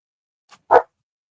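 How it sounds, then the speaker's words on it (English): A single short dog bark, sharp and fairly close, preceded by a faint little yelp, then silence. "my dog's barking."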